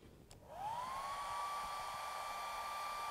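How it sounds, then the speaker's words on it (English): A hair dryer switches on and runs steadily, drying paint on carved wooden eyes; its motor spins up with a rising whine into a constant airy hum, fairly close and alone. "I'll dry that with the hair dryer before I do too much more"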